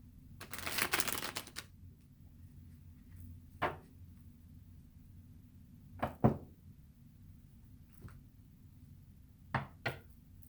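A brief riffle of tarot cards being shuffled, followed by a few scattered soft taps and knocks in a quiet room.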